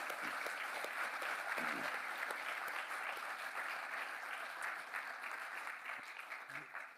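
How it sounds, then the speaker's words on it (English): Audience applause at an awards ceremony, a continuous even wash of many hands clapping, heard at a distance and fairly faint, with a hint of voices underneath. "You should all give yourselves a round of applause."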